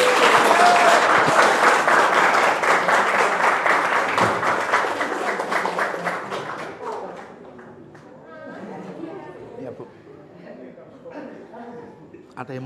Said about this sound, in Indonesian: Ayo tepuk tangan untuk ibu gurunya.